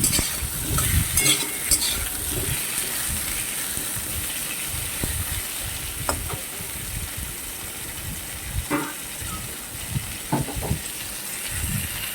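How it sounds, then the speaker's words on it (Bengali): Potatoes frying in oil in a kadai until reddish, a steady hissing sizzle with bursts of louder crackle and occasional stirring clicks, close and continuous with no one talking. "আলুগুলোকেও আমি লাল লাল করে ভেজে নিই।"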